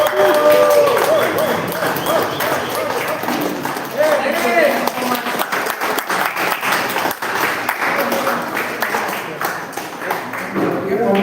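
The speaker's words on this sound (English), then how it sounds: "loudest applause" Loud, sustained applause from a crowd at an awards event, with shouting voices and other crowd noise mixed in throughout.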